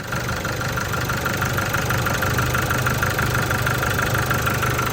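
An Isuzu Cameo's 1.9 diesel engine, which has a black smoke problem, idles steadily and loudly, a constant low rumble with a faint knocking texture and no voices.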